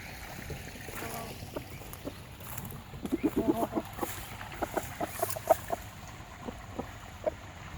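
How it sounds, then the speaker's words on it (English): Chickens cluck in short, scattered bursts over a low, steady outdoor background, with a few sharper squawks as they scuffle over a tomato. "See how excited the chickens get."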